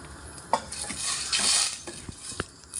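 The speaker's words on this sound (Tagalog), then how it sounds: "Haluin lang natin." A spoon stirs a pot of coconut milk vegetable stew with shrimp, giving soft scraping and clinking against the pot over a gentle simmer and low sizzle, with a few sharper knocks.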